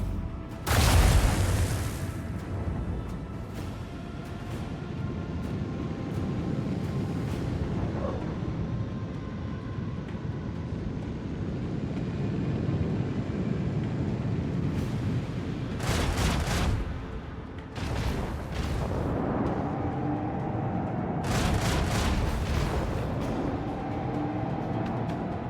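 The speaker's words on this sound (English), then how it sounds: "put some torpedoes" Torpedo strikes in the Rogue Trader space battle: a sharp loud blast at the start, a sustained rumbling roar, then several more clustered explosive bursts near the end.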